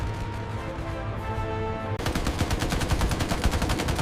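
A B-17 bomber engine drones steadily for a couple of seconds before a loud, rapid hammering of WWII German fighter machine-gun fire cuts in and rattles on in dense, even bursts.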